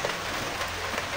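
Rain falls steadily, giving a continuous dense hiss of drops on surfaces with a faint low rumble underneath, heard alone and without talk.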